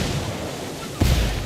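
A frag grenade detonates in the tactical shooter game Ghost Recon Wildlands, a sudden deep boom cutting in over steady background gunfire and battle noise, loud and close.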